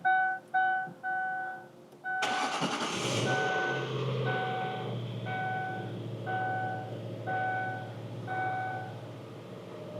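A few electronic beeps, then a 2005 Ford Thunderbird engine cranks and catches with a loud burst, settling into a steady close idle while a beeping tone repeats at an even pace.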